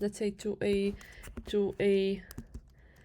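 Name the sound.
typing on a computer keyboard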